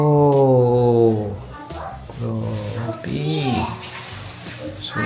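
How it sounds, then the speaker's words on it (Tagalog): Water runs steadily from a shower in a luxury hotel bathroom in Manila while someone talks excitedly over the hiss. "the shower area."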